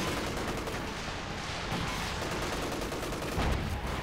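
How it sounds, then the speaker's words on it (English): Dense, continuous gunfire at infantry in the Company of Heroes 2 strategy game: overlapping rifle and machine-gun bursts roar without a break, loud and busy, like a battlefield barrage. "Fire on that infantry. A few quick shots there."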